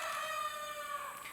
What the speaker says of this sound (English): Hopefully that rooster stops crowing.